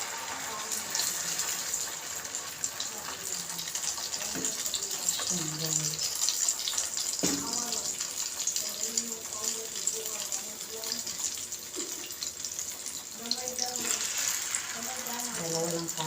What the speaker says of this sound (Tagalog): Iprito na natin guys.